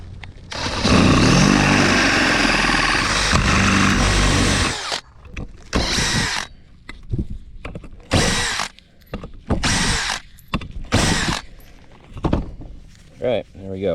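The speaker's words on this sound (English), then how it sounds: "So we're going to drill these holes just a little bit bigger." A power drill whines loudly and steadily for about five seconds while enlarging holes in a board for a van modification, then short bursts of drilling and handling noises follow intermittently.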